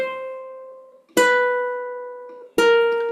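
Ukulele notes from an F blues scale ring out one at a time, three clear plucked tones spaced about a second apart, each sustaining and fading, close and alone.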